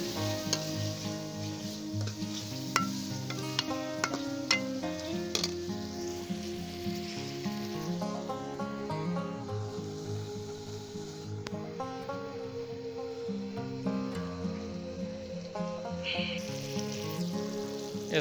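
Mashed eggplant for baingan bharta sizzles steadily in a hot pan as red chili powder, turmeric and salt are stirred in, with scraping strokes over the frying and soft music playing in the background.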